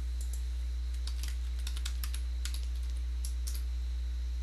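Computer keyboard typing on a server setup: clusters of quick, light key clicks in uneven bursts over a loud constant low electrical hum and steady fan noise.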